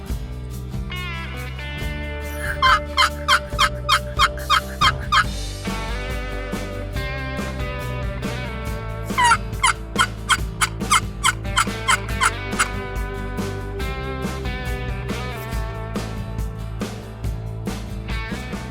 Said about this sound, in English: If we could just find a lonely gobbler.